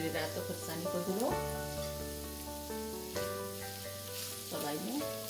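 Turmeric and Kashmiri red chili powder fry in a hot pan with a steady sizzle, stirred now and then, under a bright sustained tone that runs throughout.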